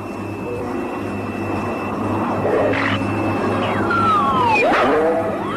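A cartoon plane's engine starts up and takes off, with a steady droning hum that rises and sweeps upward in pitch toward the end, accompanied by whooshing tones.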